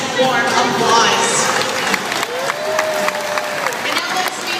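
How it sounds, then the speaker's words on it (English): Crowd noise with scattered clapping and cheering at a dolphin show at Brookfield Zoo, a broad busy wash of sound that stays steady throughout, with no clear speech on top. "Let's warm Nolani up with a nice warm applause"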